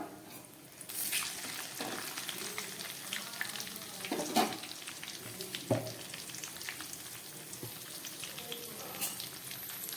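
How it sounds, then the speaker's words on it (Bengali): Whole garam masala, cardamom, cloves and bay leaves frying in oil for a paneer and potato dish, a steady close sizzle broken by scattered crackles and spatula scrapes throughout. "এগুলোকে একটু ভালো করে ভেজে নিচ্ছি।"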